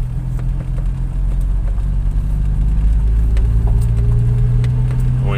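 A Jaguar 420 car engine hums steadily and loudly from inside the cabin while driving, with a low constant drone and a slight rise in pitch as it shifts into second gear; no talking.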